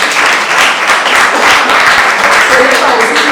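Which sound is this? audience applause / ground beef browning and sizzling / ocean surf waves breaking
audience applause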